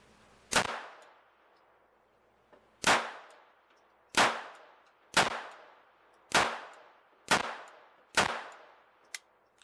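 Seven sharp, loud pistol shots from a Beretta Bobcat Model 21, fired at irregular intervals about a second apart, each with a quick decaying echo and a faint metallic clink near the end.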